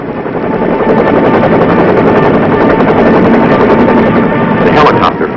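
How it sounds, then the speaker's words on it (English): Helicopter flying inland over a beach assault force during a Vietnam-era troop landing, a steady loud rotor-and-engine roar that fills the scene throughout with no pauses. "We fly above the beach assault force, for our helicopter landing zone is well inland"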